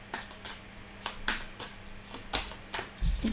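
Tarot cards are shuffled close by in quiet, rapid riffles and soft slaps, each burst short and crisp and recurring about every half second, ending in a duller thump. No one talks.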